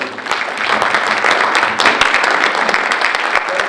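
An audience at a chamber of commerce breakfast event claps steadily throughout, a dense, loud burst of applause with individual claps standing out up close.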